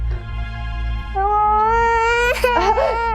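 A little girl cries in a tense Hindi crime-drama scene, with a wavering, rising wail that builds over a low background hum and swells into louder sobbing bursts near the end.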